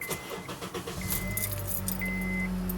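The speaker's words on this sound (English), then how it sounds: "Just make sure car starts up, nothing blows up," A 2008-2012 Honda Accord engine cranks and catches after a spark plug service, a brief starter whir settling into a steady idle, close up, with keys jangling over it.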